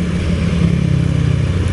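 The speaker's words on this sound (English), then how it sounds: "We've got some car in the tunnel that's like revving out as well." Inside a tunnel, a car engine revs hard, giving a loud, continuous, low rumbling drone with a slight throbbing pulse, booming and echoing close by for the whole stretch without any voices.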